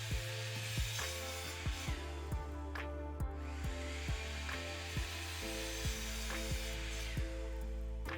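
Poplar boards being ripped to about 2.5 inches for stiles and rails, a steady whining saw blade with regular faint knocks as each board feeds through, and a shift in tone partway.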